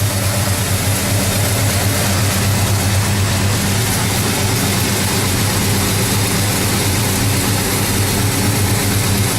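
Outside a 1970 Oldsmobile Cutlass, its 403 V8 runs at a steady idle, a loud and constant deep drone close by that holds without change for several seconds, with no voices.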